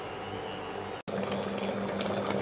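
Homemade tomato ketchup simmers on a stove while being stirred, giving a faint, steady bubbling and liquid churning with a brief break partway through.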